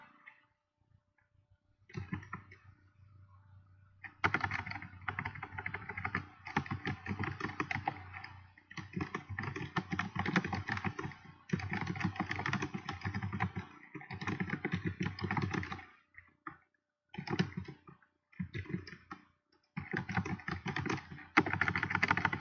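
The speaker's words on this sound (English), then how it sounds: "You probably can hear me typing." Steady bursts of typing on a computer keyboard, close and fairly quiet, with clicking keystrokes in irregular runs broken by short pauses and no talking.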